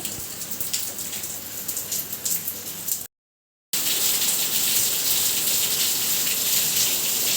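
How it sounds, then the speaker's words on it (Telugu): Heavy rain pours down in a dense, steady hiss, cutting out briefly for a moment before resuming just as strong. "వర్షం అయితే చాలానే పడుతుంది"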